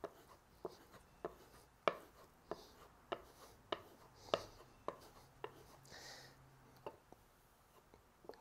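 A hand plane blade is pulled backwards across a sharpening stone in a steady series of about a dozen short, quiet scraping strokes, evenly spaced roughly every half second, close and faint.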